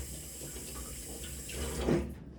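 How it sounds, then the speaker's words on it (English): Tap water running from a faucet over a metal spoon at a kitchen sink, a steady close splashing hiss that rises briefly near the end and then cuts off. "What I do with the spoon is I run it under some water."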